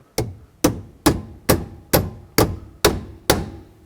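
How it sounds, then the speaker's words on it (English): Hammer gently tapping out the shifter locking pin on a 1997-2003 Ford F-150 steering column: eight sharp, evenly spaced metallic taps, close and clear with no talking. "Now you get a hammer and gently tap this pin out."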